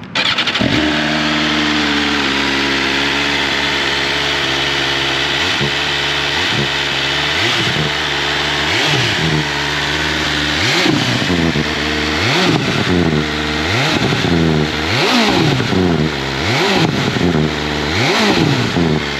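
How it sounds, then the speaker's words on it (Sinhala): A 2022 BMW S1000RR motorcycle engine fitted with a catalytic converter idles loudly up close, then is blipped repeatedly in a series of sharp rising revs that fall back to a throbbing idle, with no talking. "මේ එක්සෝස් එක මාර සද්දයි ඇත්තම කිව්වොත්."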